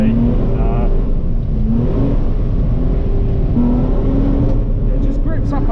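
A car engine revving hard and continuously while drifting on a track, loud and close with the pitch rising and falling; a voice talks over it.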